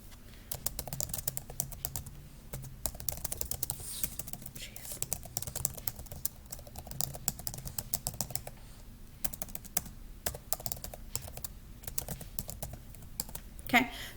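Quiet, continuous tapping on a computer keyboard, with irregular bursts of keystrokes and brief pauses, faint and close, under low background hum.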